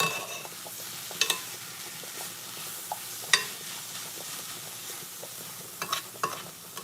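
Onions frying in oil in a pan for a potato pie, a steady close sizzle with a few sharp clinks of a utensil stirring against the pan.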